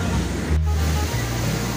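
Strong sea waves and surf along the coast of El Salvador make a loud, continuous roaring wash close by, with no break in the noise.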